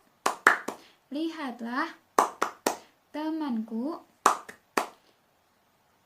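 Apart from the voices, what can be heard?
classroom children doing the tepuk hebat clapping chant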